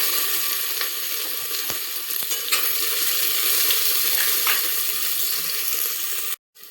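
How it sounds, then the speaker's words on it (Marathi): Onion sizzles loudly in hot oil with mustard seeds, cumin, whole spices and bay leaf in a cooker for vegetable biryani, a dense steady frying hiss with a few utensil clicks, stopping abruptly at the end. "आता कांदा तळून झाला आहे."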